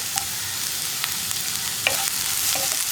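Green chillies go into a pan of frying tomato curry, which keeps up a soft, steady sizzle and hiss with a few faint clinks and stirring taps close by.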